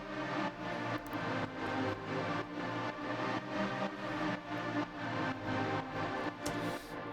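A Nexus melody layered with the Nexus fog pad in an Ableton Live project plays as a dense, steady wash of sustained synth tone with a soft pulsing rhythm, continuous at moderate level.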